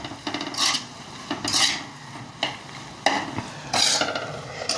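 A spoon stirs coconut ladoo mixture with milk powder in a pan, repeated loud scraping strokes in an uneven rhythm over a low sizzle.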